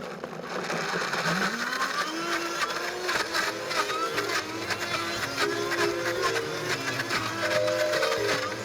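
A Vitamix Ascent A3500 blender winds up from low toward its highest speed, a steady close motor whir with rising pitch that holds loud and continuous throughout, processing a thick yogurt-like mixture.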